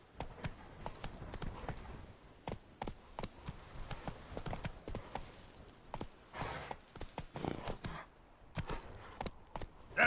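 Hooves of the horse Roach from The Witcher 3 video game clatter in a fast, steady clip-clop of a gallop that runs throughout the clip, loud and close, with no talking.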